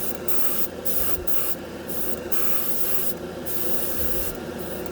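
A Harbor Freight $20 dual-action airbrush sprays primer in a continuous close hiss, with the airflow swelling into several stronger bursts as the trigger is pulled.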